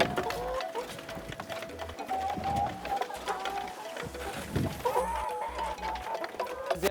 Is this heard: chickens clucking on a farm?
yes